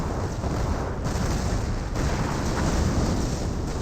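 A Werfer rocket artillery barrage in the Company of Heroes video game rumbles as a dense, continuous wash of explosions, loud and steady throughout with no pauses.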